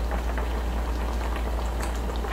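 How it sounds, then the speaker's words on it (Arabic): Kofta cooking in a pan alongside partly fried potatoes gives a steady, close sizzle and bubbling crackle with a constant low hum underneath, continuous and even with no talking. "وراح أضيف الكفتة وأخليها تطبخ فيها"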